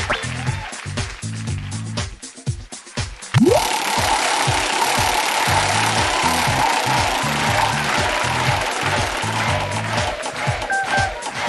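A prize wheel spins on a TV Show King 2 quiz game, with a fast rattling tick that starts after a short rising whoosh and carries on steadily under bright game music.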